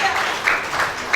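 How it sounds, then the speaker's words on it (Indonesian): Church congregation at a Sunday worship service giving a short burst of applause, moderately loud, with swells of clapping rising and fading over a second. "Yang setuju dengan saya berikan tepuk tangan bagi dia."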